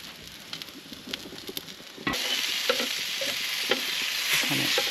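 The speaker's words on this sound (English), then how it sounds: "Just got some sausages on the barbecue" Sausages sizzle loudly on a barbecue at an outdoor park, a steady crackling hiss that jumps in intensity partway through, with faint spatters and scraping throughout.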